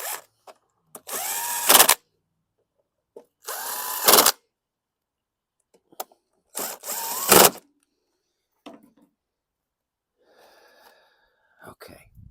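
A DeWalt power drill fitted with a socket, working on a 2016 Craftsman Platinum 725 lawn mower, runs in three loud, close bursts of a couple of seconds each, separated by quiet gaps, with faint handling clatter afterward.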